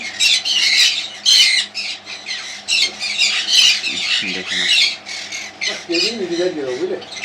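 Cockatiels at a bird farm in Howrah squawk in sharp, shrill bursts, loud and close, with people talking underneath.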